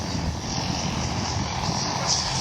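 Aeroshell Aerobatic Team aircraft at a 2022 airshow in Vidalia, Georgia, produce a steady, moderately loud engine drone heard from a distance, with crowd ambience mixed in.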